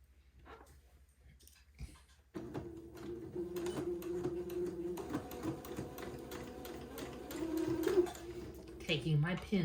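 A sewing machine stitches the neckline of a daygown, a quiet start giving way to a rapid, rhythmic mechanical whirr that speeds up near the end, with soft talk and handling noises around it.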